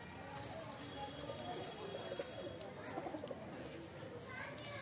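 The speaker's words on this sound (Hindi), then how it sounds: "देख लीजिए भाई कितना बड़ा कबूतर है" Pigeon coos from a large black-and-white domestic pigeon, soft and low against steady background noise and nearby human voices.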